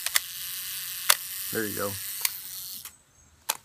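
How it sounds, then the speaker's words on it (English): A 35mm film camera with its back open fires its self-timer and shutter: several sharp, close mechanical clicks spaced about a second apart over a faint ticking hum, with a brief spoken phrase between them. "you'll see the self timer knob start to move. And if I actually open up the back of the camera, you'll see the picture take when the shutter opens."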